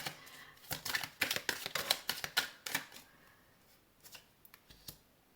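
Tarot cards are handled and laid down to cover a spread, giving a close series of crisp card snaps and shuffling flicks, then a few sparse light taps, with no voices.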